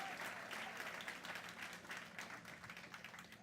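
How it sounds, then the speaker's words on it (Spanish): A church congregation claps together in sustained, even applause during a Sunday service, the clapping fairly distant and soft but continuous throughout. "date un aplauso a ti mismo"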